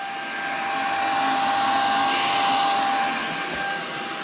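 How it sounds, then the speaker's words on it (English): A motel shoe dryer runs steadily as a loud, continuous blowing whoosh with a faint high whine, like a hair dryer, and no voices over it. "It's a good thing our motel has a shoe dryer."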